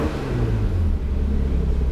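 Nissan 300ZX engine revving during a throttle response check, a steady low rumble with a brief rise in revs, loud and close throughout.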